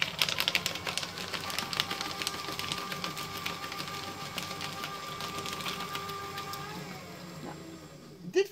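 A Fellowes Powershred 73Ci paper shredder runs close up, a rattling, whirring motor with busy clattering bursts that continue steadily before cutting off near the end.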